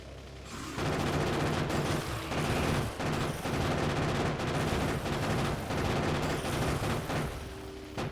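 Rapid automatic gun turrets in Factorio fire in a dense, continuous rattle of gunshots that holds loud and close for most of the stretch, with only brief dips between bursts.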